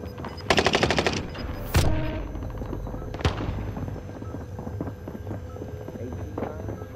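Rapid bursts of automatic gunfire from Call of Duty: Modern Warfare, a loud rattling volley followed by a single sharp shot and a later crack, over continuous low game ambience.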